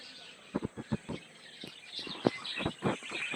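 Fischer's lovebirds at a zoo chirping in a quick run of short, bright calls, some louder and nearer, others fainter, over a light background hum.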